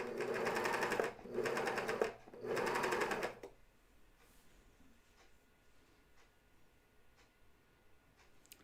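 A coverstitch machine stitches a pajama top in three close bursts of purring whir, each about a second long, then stops, leaving faint ticks and room quiet.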